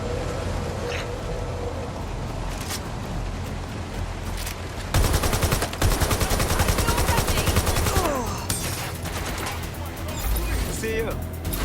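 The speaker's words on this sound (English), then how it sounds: "Taking fire!" Gunfire in Watch Dogs: Legion, scattered shots at first, then a loud sustained burst of rapid automatic fire with a voice speaking over the action.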